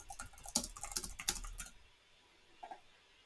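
Quick bursts of typing on a computer keyboard, with a rapid run of close, crisp key clicks for over a second, then near silence with one faint tap afterward.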